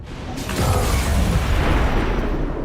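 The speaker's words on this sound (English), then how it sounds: "A loud explosion draws a lost swarm." A loud explosion in the video game XCOM 2 opens with a sharp onset, then rolls into a sustained, heavy rumble that lingers without speech.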